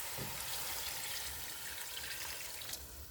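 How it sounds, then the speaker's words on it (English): Water pours steadily into a pot of turkey necks being readied for a simmer, a continuous close splashing rush with no talk. "we're going to add some water just to start the simmering down process"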